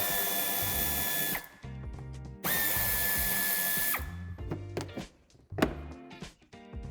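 A power drill with a 10 mm socket spins out a screw holding the corner of the wheel-arch plastic on a 2019 Opel Zafira Life, in two long whining runs and then shorter bursts, close and loud with no talking.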